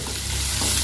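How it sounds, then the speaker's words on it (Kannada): Mustard seeds, cumin, chana dal, urad dal, onion and green chillies frying in two spoons of oil, a loud, close, continuous crackling sizzle over a very short stretch with no talk. "ಈರುಳ್ಳಿ, ಮೆಣಸಿನ್ಕಾಯಿ ಎಲ್ಲ ಹಾಕಿ ಫ್ರೈ ಮಾಡ್ತಾಯಿದ್ದೀನಿ."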